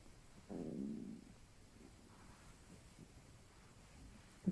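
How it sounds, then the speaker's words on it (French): Belly gurgling during a self-massage of the abdomen: one soft, low rumble swells for about half a second, then fades into near silence, close and quiet. "Vous pouvez sentir qu'il y a des gargouillements,"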